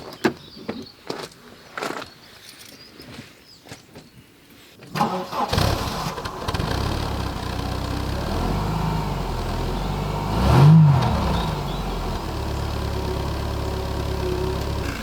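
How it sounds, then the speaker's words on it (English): Mercedes W124 engine cranks and fires after a few clicks and rustles, then settles into a steady, close idle on automatic choke, with one brief louder rise partway through. "There we have the Mercedes running."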